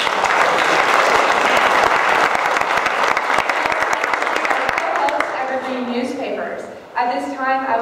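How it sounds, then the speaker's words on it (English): An audience at a candidates forum in a fire and rescue department hall claps in a loud, dense round of applause that thins and fades out, followed by a voice speaking. "So a round of applause."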